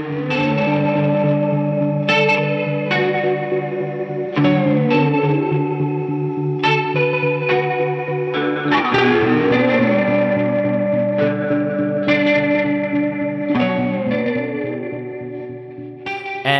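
Electric guitar run through an effects pedalboard with an octave pedal, imitating slide guitar: sustained notes gliding up and down in pitch with chorus, distortion and echo, loud and continuous with no talking.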